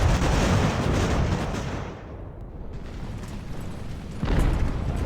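Cannon and artillery fire in the naval strategy video game Ultimate Admiral: Age of Sail, a heavy boom that rumbles and fades, followed by a second loud blast near the end.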